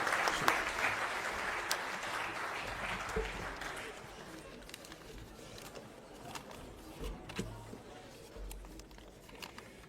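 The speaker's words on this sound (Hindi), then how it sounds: "हम सब के चहेते नेता आदरणीय श्री अशोक गहलोत जी से जोरदार तालियों से स्वागत" A crowd at a Congress political gathering, the Jai Hind Sabha at Jawahar Bhawan in New Delhi, claps loudly and steadily for a few seconds before the applause thins and fades into scattered claps and room noise.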